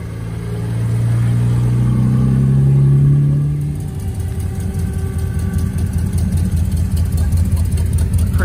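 A rat rod's engine idles at an outdoor Fourth of July car show, a low steady rumble that swells to a louder hum for the first few seconds, then settles into a rougher, fluttering idle with faint background chatter.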